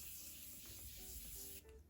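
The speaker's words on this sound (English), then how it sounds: "Now I'm just gonna spray my face with the Morphe Continuous Setting Mist." A Morphe Continuous Setting Mist sprays onto a face in one steady, close, soft hiss lasting under two seconds, with no talk over it.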